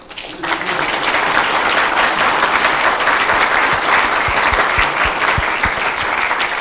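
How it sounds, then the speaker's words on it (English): Audience at a Vermillion Rotary Club meeting applauds in a sustained, dense burst of clapping that starts abruptly and holds steady at close range, with no voices over it. "Really, that applause goes both ways."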